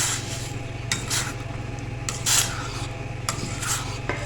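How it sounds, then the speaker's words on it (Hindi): Vegetables for a vinegar pickle being stirred and mixed in a pot, steady scraping and rubbing strokes with a few louder sweeps, close and alone. "इस तरह सारी वेजिटेबल्स इसमें ऐड कर देंगे। अच्छे से इसको करेंगे मिक्स।"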